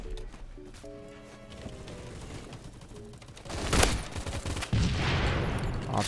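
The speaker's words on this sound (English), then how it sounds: "use my sawed off. I shot you twice." Sawed-off shotgun fire in the Phantom Forces video game: loud, sharp blasts burst out in the second half, over a busy backdrop of in-game tones and noise.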